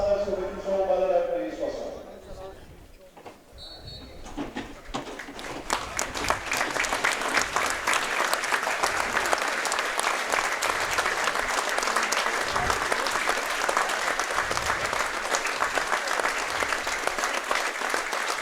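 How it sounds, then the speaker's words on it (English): A stadium crowd at a Stranraer versus Annan Athletic football match gives a minute's applause, with steady, sustained clapping that swells after a few seconds and continues evenly, following a brief stretch of speech at the start. "We'll just keep quiet now while that minute's applause gets underway."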